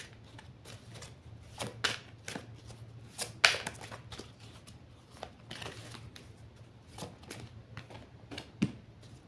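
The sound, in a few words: shuffling and cutting a deck of cards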